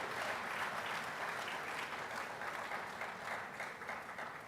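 A large audience claps steadily at a university agriculture anniversary celebration, a dense continuous wash of applause holding level for several seconds with no voices on top.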